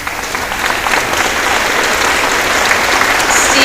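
Steady, loud applause from a large audience at a high school's 100th anniversary band concert, a dense uninterrupted wash of clapping holding at full strength throughout.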